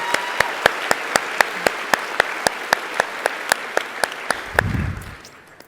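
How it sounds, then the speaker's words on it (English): Audience applause for a panel of women at an event, heard as evenly spaced, rhythmic claps with a steady beat close to the listener, ending in a low thump as the clapping fades. "another massive round of applause"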